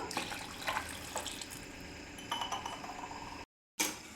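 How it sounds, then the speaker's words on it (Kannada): Water poured into a pressure cooker holding potatoes, chickpeas and salt, a close splashing trickle with light metallic clinks, pausing briefly near the end before resuming, no talk. "ನೀರು ಹಾಕ್ಬಿಟ್ಟು"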